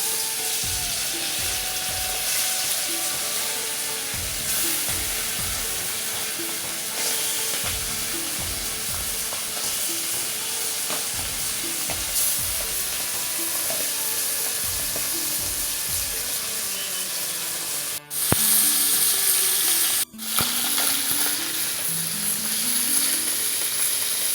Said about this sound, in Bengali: গরম হয়ে গেছে এখন মাছটা দিয়ে দিচ্ছি